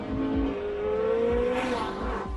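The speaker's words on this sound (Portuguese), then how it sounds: "o motor de combustão entra em força total com uma ajuda dos motores elétricos" A Porsche 918 Spyder hybrid's V8 racing engine runs at full power, a loud, close, continuous roar rising and falling in pitch over a couple of seconds with no voices.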